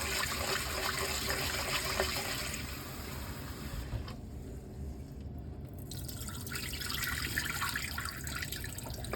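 Rice is rinsed in water in a kitchen: a continuous trickle and slosh of running, dripping water fills the whole stretch at a fairly even level, with no voices.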